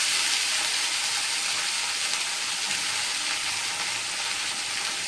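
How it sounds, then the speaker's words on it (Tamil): Brinjal frying in an iron kadai with mustard seeds, dal and curry leaves, giving a steady, dense sizzle and crackle throughout at an even, close level with no talking. "இப்போ வந்து கத்திரிக்காய் போடுறோம்."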